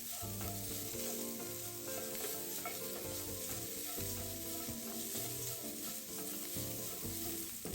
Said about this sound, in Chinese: 这时候再将洋葱倒入，一直炒至洋葱色泽变得有点透明